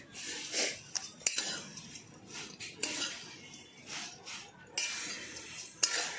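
Nylon poha being mixed with powdered sugar and salt, giving soft scraping and clinks of a spoon against a metal bowl, close and moderately quiet, with a few brief sharper knocks.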